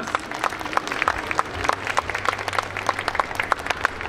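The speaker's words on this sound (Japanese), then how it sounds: "拍手お願いします" An audience applauds at an awards presentation in Fukuoka, with brisk, evenly spaced claps and a low background hum running beneath.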